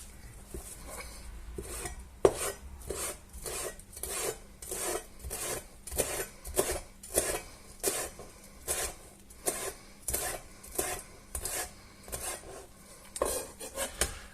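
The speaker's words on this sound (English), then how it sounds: "Next up will be to chop the parsley up." Knife chopping parsley on a board, a long run of quick regular taps, sometimes in bursts, close and fairly crisp, with no talking.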